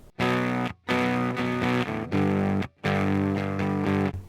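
Electric guitar driven through an EHX Germanium 4 Big Muff Pi with compression at maximum gives thick, fuzzy, distorted chords in loud sustained bursts separated by short gaps, sounding choked and strained.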